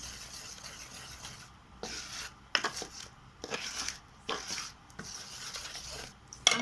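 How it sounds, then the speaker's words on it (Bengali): Cake batter made with flour is mixed by hand in a bowl, giving soft, close scraping and rubbing strokes in an irregular rhythm with quiet gaps. "এখানে আর একটু ময়দা চেলে রেখেছিলাম এসটা এটা দিচ্ছি আমি একটু টাইট টাইট করে ব্যাটারটা বানাতে হবে"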